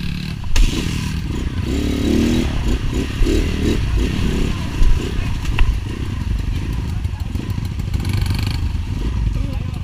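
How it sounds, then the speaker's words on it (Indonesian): A motorcycle on a jungle trail in the Amazon rumbles and revs loudly and up close after being kick-started, with scraping and clattering mixed in and voices talking over the engine. "Harus diselah lagi."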